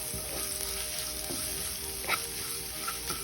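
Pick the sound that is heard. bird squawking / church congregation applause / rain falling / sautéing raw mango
sautéing raw mango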